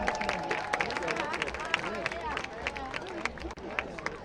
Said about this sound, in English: Let's offer a round of applause to everyone who participated in our banner competition